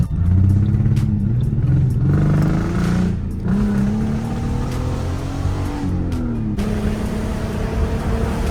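A 2005 Ford Mustang S197, freshly tuned with new spark plugs, wires and coil packs, pulls away with rising and falling engine revs through gear changes, heard close from inside the car, with occasional clatter and no talk.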